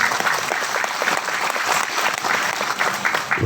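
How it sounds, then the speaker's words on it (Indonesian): Applause for Abah Guru Dr. Wargo at a halalbihalal gathering with the local community and PSHT members, a dense crowd clapping steadily for about three seconds, fairly loud and close, tapering at the end. "tepuk tangan untuk beliau"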